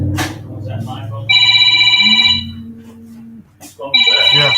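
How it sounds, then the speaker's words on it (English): A phone rings with a bright electronic ringtone in two bursts, close by and fairly loud, over a low steady hum in a room where people talk before and between the rings. "Was that my phone?"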